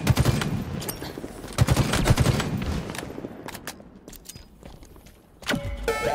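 Bursts of gunfire crackle through a Halo Infinite capture-the-flag match, loud sharp volleys up front, thinning to scattered distant shots before another burst near the end.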